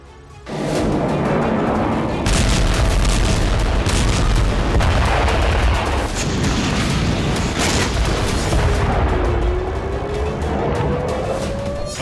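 Heavy bombardment in Gaza: explosions and gunfire merge into a loud, continuous roar and rumble that barely lets up, with sharper cracks scattered through it.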